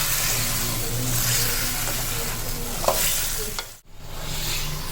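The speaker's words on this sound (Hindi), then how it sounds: "ये देखिए इसको थोड़ा सा चला लेंगे मसाले के साथ" Beef trotters get stirred and fried with spices for Lahori beef paya: a continuous close, loud sizzle with scraping stirs, then a brief pause before the frying resumes.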